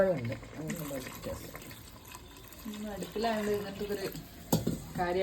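Hot water is poured into a chicken curry simmering on a stove, a soft trickling and sloshing of liquid in the pot, heard close while someone talks.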